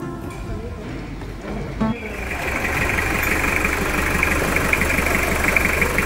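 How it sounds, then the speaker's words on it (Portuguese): A 2001 Toyota Hilux SR5 2.8 diesel engine idles steadily at close range while warming up, a low rumbling drone that grows slightly louder and settles into an even, continuous chug. "Para a grande maioria dos apaixonados por motores a diesel, este é o melhor som, uma verdadeira melodia"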